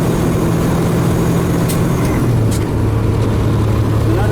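A truck's engine drones steadily through a fast split shift on a 13-speed transmission, its low tone dipping briefly then settling at a new, slightly different pitch; the sound is loud and continuous throughout.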